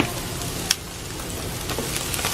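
Garlic and onion frying in hot oil until golden brown, a steady soft sizzle at close range with a small clink near the start and no talk over it.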